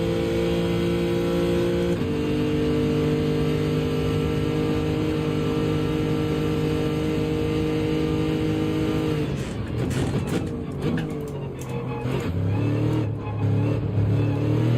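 A Porsche race car engine in a racing video game at Spa-Francorchamps drones loudly at steady revs, then drops pitch through a downshift with a rough, crackling transition before settling at a lower tone.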